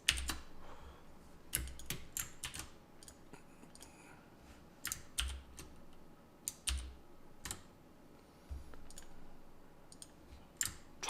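Computer keyboard keys clicked in sparse bursts while working in Adobe Illustrator, including a Control-Shift-bracket shortcut: close, crisp taps with irregular pauses between them.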